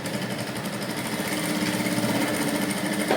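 A sewing machine stitching a princess cut blouse, running steadily and loudly close by with a continuous rapid mechanical whir and chatter throughout.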